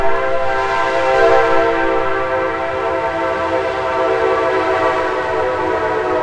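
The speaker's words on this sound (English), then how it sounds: "Thank you, train." A train passes at close range, its steady layered rumble and tonal horn-like drone holding loud and continuous throughout with no voices.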